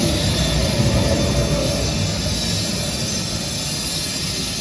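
A steady, loud rumble of a train idling at the platform of Zakopane station in Poland, broadband mechanical noise with no voices.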